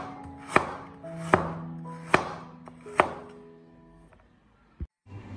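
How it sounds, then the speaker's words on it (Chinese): Fresh ginger being cut into thick slices with a knife: four loud, evenly spaced chops on a board with resonant thuds, then a quieter pause and one more sharp knock near the end. "将生姜切成厚片"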